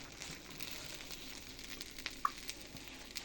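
Faint, steady sizzling hiss of homemade bread being brushed with sugared vanilla water, with occasional soft crackles and pops, no voices.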